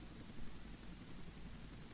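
A steady low rotor whir of a police or military helicopter in GTA Vice City drones on, fairly quiet and unbroken, with no voices.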